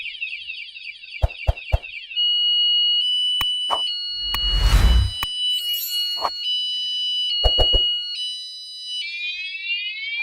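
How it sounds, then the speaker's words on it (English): A catalytic converter anti-theft alarm wails loudly with shifting siren-like tones and chirps, interrupted by a few sharp clicks and a burst of noise, close by. "it's making all kinds of alarm sounds"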